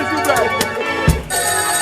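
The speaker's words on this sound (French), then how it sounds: "téléphone de sonner là" A telephone ringing in a live radio studio, with repeated electronic ring bursts and a voice talking over them.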